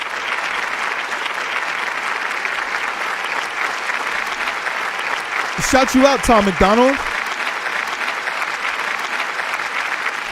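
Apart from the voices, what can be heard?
applause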